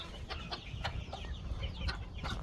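Chickens and young chicks in a farm coop, with soft repeated clucks and chirps scattered over a steady low rumble of background noise, fairly close and moderate in level, with no talking.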